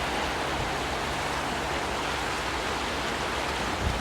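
A river rushes in a steady, loud, unbroken wash of water noise that fills the whole stretch, with no distinct events rising above it.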